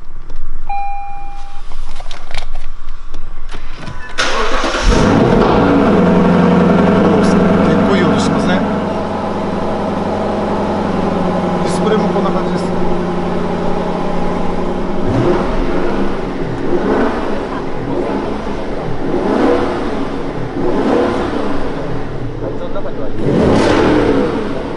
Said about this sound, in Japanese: ちょっとエンジンかけてみます。 でちなみにこれ純正でもすごいいい音がするんです